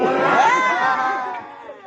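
A crowd cheers and shouts together at a Betawi Palang Pintu wedding procession, a dense swell of voices that rises briefly and then gradually fades.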